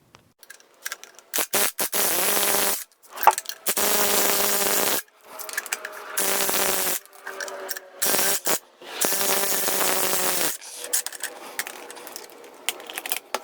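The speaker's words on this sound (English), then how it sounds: "go ahead and loosen your spring compressors one at a time" A ratchet loosens the spring compressors on a Toyota Prius front shock, rapid pawl clicking in repeated bursts separated by short pauses, close and fairly loud with no talk.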